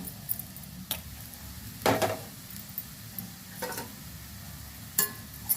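Carrot rice being stirred in a pan, soft scraping strokes recurring every second or so at low level, with a faint background sizzle and no talking.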